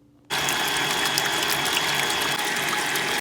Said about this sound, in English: I'm gonna start with mixing the eggs in the mixer.